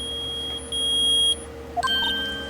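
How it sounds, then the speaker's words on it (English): Electronic metal detector beeps in the video game Phoenix Wright: Ace Attorney sound in steady tones, one long, then a quick cluster of short, higher blips, with a low hum underneath. "It's beeping! The metal detector's found something!"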